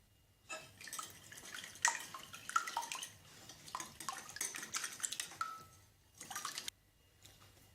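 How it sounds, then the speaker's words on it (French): Four eggs are lightly whisked in a bowl for vanilla crêpe batter, a quiet series of irregular clinking and swishing bursts separated by short pauses. "Je vais les fouetter légèrement."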